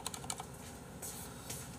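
Rapid keystrokes on a compact mechanical keyboard, a quick clattering burst followed by a few scattered taps, close and moderately quiet.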